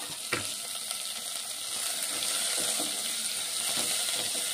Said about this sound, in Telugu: వీటిని వేయించుకుందాం